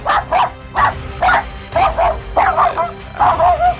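Several dogs nearby give a steady run of short, loud yips and barks mixed with whimpers, repeating in a quick rhythm throughout.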